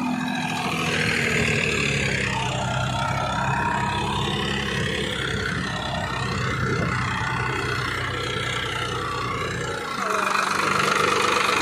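A Farmtrac 6 tractor engine with a turbo runs loud and steady nearby, a continuous rough drone that shifts pitch briefly near the end.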